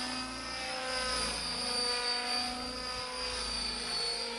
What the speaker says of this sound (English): you start really hearing the rotors beating the air